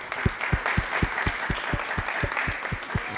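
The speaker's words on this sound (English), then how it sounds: "let's give them a round of applause" Applause from the audience at a local chamber of commerce event, a fairly steady patter of hand claps with a strong, regular low thump running through it, moderately loud for a few seconds.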